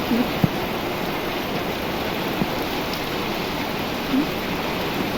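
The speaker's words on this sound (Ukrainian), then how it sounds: "Трошки притих дощ, це знову пустився." Steady rain pours down in a continuous hiss, with a few faint drips and knocks standing out now and then.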